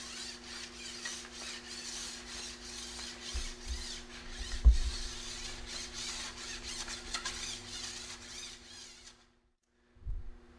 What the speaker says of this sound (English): the file is cutting on the downstroke